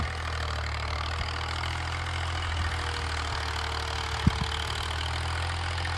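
A 1989 Massey Ferguson 240 tractor hauls an 11-tine cultivator through hard, rain-packed field soil, its engine a steady, fairly faint low drone with a few small knocks.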